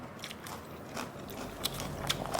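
Someone bites into a spicy papaya salad made with squid and pickled field crab. The chewing gives faint, close crunching and crackling in a quiet room.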